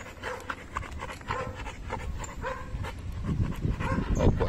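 Pit bull panting after a walk on the beach, quick breathy pants with occasional soft whimpers, close and steady against outdoor beach noise, no talking.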